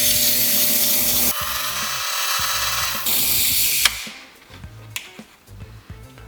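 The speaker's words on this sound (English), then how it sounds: "it's a 320 grit diamond topper I'm using, and I just grind a bit to get a flat spot" Red zircon gemstone ground on a 320 grit diamond lap topper to cut a flat spot, giving a steady whirring, rubbing grind that shifts in intensity in sections, then drops away to quieter scraping and light taps.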